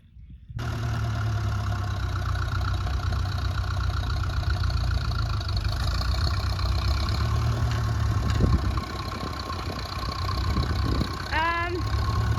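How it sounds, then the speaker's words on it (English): A steady, low tractor engine rumble runs throughout, close and continuous, while pulling a bogged vehicle out off-road, with a brief rising squeal near the end. "Okay, so we're just bringing the tractor to get this out."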